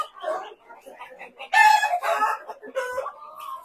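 A heavy giant-breed rooster, Balão GSB or Caipirão Gigante, crows loudly in a farm pen, one long strained crow close by, with scattered clucks from other fowl before and after.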